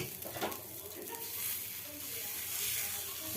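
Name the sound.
dosa batter poured onto hot griddle (tawa), sizzling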